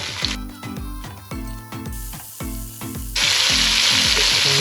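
Chopped tomato tips into chilies and garlic frying in a pan, with rhythmic scraping stir strokes over a hot sizzle that swells into a loud, bright hiss at the end. No speech.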